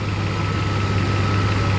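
A Mercedes 600SEL engine idles steadily with a low, even hum, close and constant throughout, with no voices.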